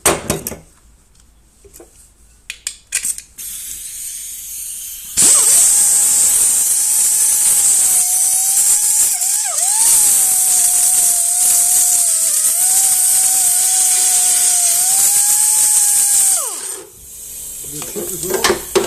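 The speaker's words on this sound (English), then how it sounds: "this is where the belt sander comes in by his own" A belt sander grinds body filler on a Wessex mower, a steady loud abrasive whine running unbroken for about twelve seconds before cutting off, with quieter shop clatter before and after.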